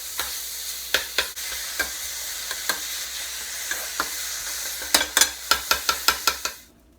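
Food is mixed with Cheez Whiz in a pan, a soft sizzle under spaced utensil scrapes and taps that speed up into a quick burst of rhythmic knocks near the end, close and without speech.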